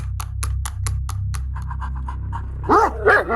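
A pet dog pants rhythmically up close, then lets out two sharp barks near the end over a low rumbling background.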